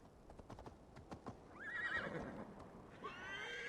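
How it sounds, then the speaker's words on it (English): A horse in the video game Assassin's Creed Valhalla gives a loud whinny after a few clip-clopping hoofbeats, then snorts and neighs again, close and alone. "I'm gonna have to use the horse"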